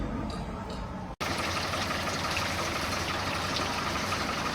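Water trickles and splashes steadily from the end of a garden hose, a continuous close wash of sound broken by one brief dropout.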